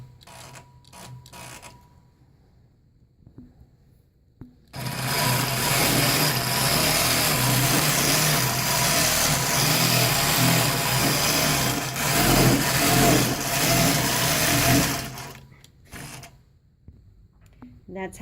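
A Nolting long arm quilting machine, freshly timed, runs a test stitch: a loud, continuous mechanical whir and clatter lasting about ten seconds, framed by quieter clicks and handling noise before and after.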